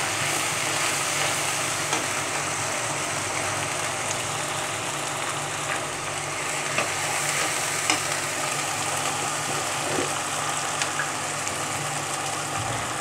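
Spices, chilli powder and salt being stir-fried with free-range chicken and bottle gourd in a pan: a loud, dense, continuous sizzle with a constant scraping and stirring texture throughout, close up and uninterrupted by speech.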